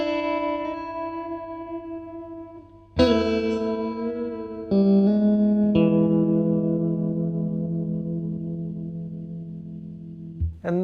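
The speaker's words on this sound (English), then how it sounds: "the 1st lick and 2nd lick here played together with the free time would sound something like this." Electric guitar playing two blues licks in free time, with sustained ringing notes and a few sharp attacks, effects-laden with reverb and echo, alone and clear.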